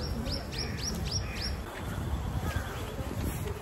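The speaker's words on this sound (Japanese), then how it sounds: "鳥のさえずりも聞こえる" Birds chirp outdoors on a cool, sunny spring day among cherry trees, a run of quick rising tweets early on, then fainter calls over a steady low background hum.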